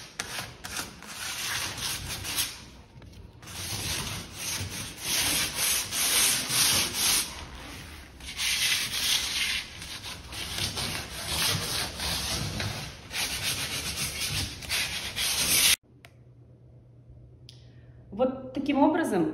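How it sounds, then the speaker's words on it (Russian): Steady, close scratchy rubbing of hand sandpaper on wooden furniture coated with decorative plaster, working over edges and corners for about sixteen seconds before stopping, with a voice talking around it. "И слегка подшкуриваем, где неприятно руке."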